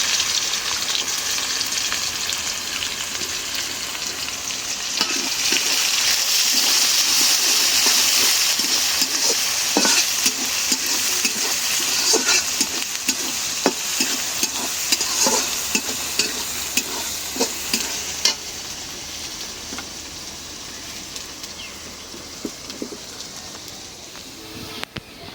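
Onions sizzle steadily in a hot pan while being fried for dal, with repeated scraping strokes of a spoon stirring them close up; the frying stays loud and continuous throughout.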